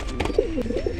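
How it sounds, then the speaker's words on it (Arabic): A male pigeon coos in a loft of domestic pigeons kept for sale, giving a near, low, rolling series of throaty coos that swell and fall over a second, with faint background noise. "الذكر اهو اللي عمال يوجع ده"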